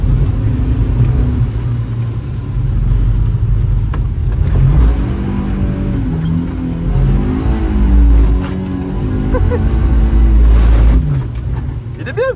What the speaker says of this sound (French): Une voiture de drift, ça fait quand même des bruits sacrément bizarres.